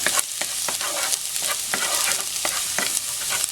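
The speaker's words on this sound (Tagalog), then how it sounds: "dito po ay gigisahin natin itong garlic. Sote natin." Garlic sizzling in a hot pan with a bright continuous hiss, punctuated by quick regular scraping strokes of stirring throughout.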